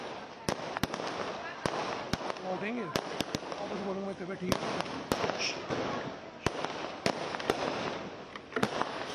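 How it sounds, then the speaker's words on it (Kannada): Firecrackers burst in front of a house during a celebration for Olympic javelin medallist Neeraj Chopra: many sharp, loud cracks, some single and some in quick pairs, over steady crowd noise with people talking and cheering. "ಮನೆಯ ಎದುರುಗಡೆ ಪಟಾಕಿಯನ್ನು ಸಿಡಿಸಿ"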